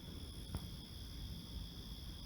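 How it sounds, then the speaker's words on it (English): Crickets in the woods make a faint, steady high chirring that holds level from start to finish, with no voices. "I hope the wind wasn't too bad, or any crickets or anything that you might hear"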